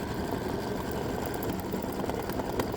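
An embroidery sewing machine stitches out letters on a patriotic quilted table runner, its motor giving a steady, even whir with a fast needle rhythm that runs continuously at close range.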